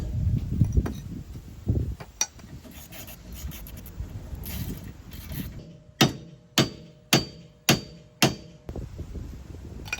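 Hammer strikes driving a 16 mm socket onto a 17 mm fitting on a Lexus SC300 drift car: five sharp, evenly spaced metallic blows near the end, after a stretch of rustling and shuffling garage handling noise.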